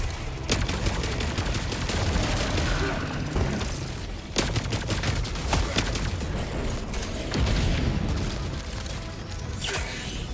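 Heavy gunfire in the co-op shooter Helldivers 2: dense, continuous loud bursts and rapid automatic fire with booms and mechanical clatter, filling the whole stretch without pause.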